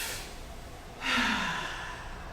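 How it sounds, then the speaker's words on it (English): A single slow, audible inhale during chair yoga, a soft breathy rush that swells and then fades, close and alone. "Breathing in."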